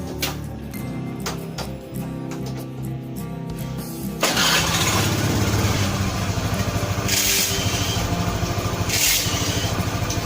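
A Honda Beat FI scooter with a fuel-injected engine that bogs and lacks power under throttle: a few faint clicks, then the engine fires at about four seconds and settles into a loud, steady idle nearby.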